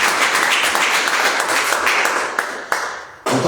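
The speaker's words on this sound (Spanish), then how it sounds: "Denle un aplauso al Señor." A church congregation applauding during a sermon, a burst of dense clapping from many hands that thins out and breaks off abruptly near the end.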